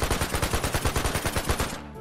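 Rapid automatic gunfire from a gun in a video game, about a dozen loud, evenly spaced shots in a quick burst that stops abruptly, with no speech.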